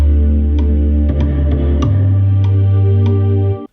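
A GarageBand Chinese drum kit pattern with swing quantization, sharp percussive hits at an uneven swung rhythm over a sustained low droning bass, ending abruptly.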